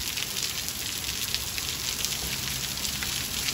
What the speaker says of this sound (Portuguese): 6 minutos aí de chuva